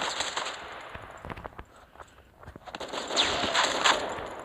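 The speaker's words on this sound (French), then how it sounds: "j'avais oublié que ces grenades allaient exploser direct" Grenades going off in a video game give sharp crackling bursts of rapid bangs, faint and scattered early, then a denser volley near the end.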